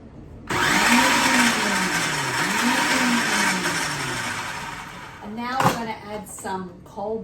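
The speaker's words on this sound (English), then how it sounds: "Some cold butter, and we're going to blend it till it turns into our pastry" A kitchen blender whirs loudly and steadily as it mixes cold butter with flour and sugar for a blueberry tart pastry, its pitch rising and dipping under the load, then it cuts out into a few short pulses.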